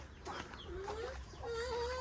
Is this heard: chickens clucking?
yes